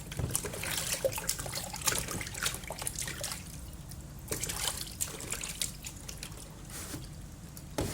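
Water trickles and splashes steadily as food is rinsed in salt water in a home kitchen, with continuous close dripping and pouring throughout and no talking.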